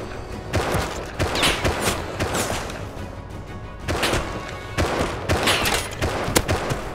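Gunfire in the video game Rust, a rapid, uneven series of shots in bursts with sharp cracks that keep going throughout, fairly loud and close.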